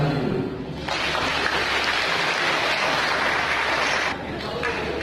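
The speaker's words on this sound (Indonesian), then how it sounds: "Tepuk tangan dulu." Audience applause at a provincial santri sports event held at a hajj dormitory hall, a dense burst of clapping that swells for a few seconds, fades, then picks up again.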